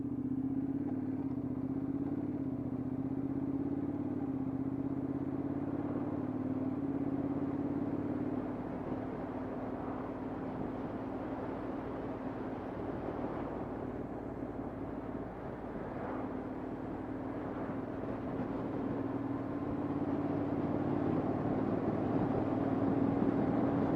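A Honda NC750S DCT motorcycle rides through Surrey countryside toward Newlands Corner, its engine droning steadily with constant road and wind noise and subtle rises in pitch as it accelerates.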